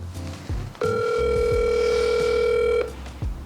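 Outgoing phone call ringing, a single sustained electronic ring tone of about two seconds with faint background sounds before and after.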